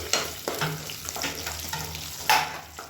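Finely chopped garlic cloves sizzle in a pan as they start to brown, making a close, steady frying crackle broken by a few sharp spatters and stirring scrapes, with no talking.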